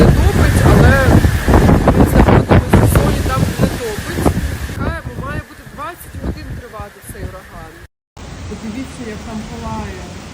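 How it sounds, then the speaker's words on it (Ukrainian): Loud hurricane wind gusts roar and buffet the microphone while a person talks over them, the blustering easing briefly before surging again. "Вже почався ураган, дуже сильні пориви вітру"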